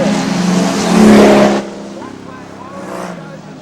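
A modified production race car engine screams loudly at Kingaroy Speedway, building to a peak then dropping off abruptly as it passes, leaving a fainter distant engine drone with commentary over it.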